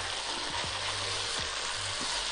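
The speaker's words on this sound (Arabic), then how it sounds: "نقلب تقليبة سريعة جدا جدا جدا" Freekeh sizzling and frying in ghee with spices, a steady close hiss with a few soft scrapes of stirring, no talking.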